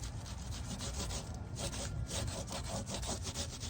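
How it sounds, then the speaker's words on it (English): Waxed leather on an axe sheath is rubbed briskly along its edge to burnish it, producing a steady, close, rhythmic friction sound in rapid repeated strokes with no voices. "And burnish the top a little bit if you want."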